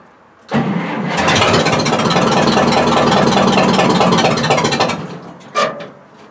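A small engine with its muffler removed cranks and starts, then runs with a loud, rapid, rough chugging for several seconds before cutting off, followed by a short final burst.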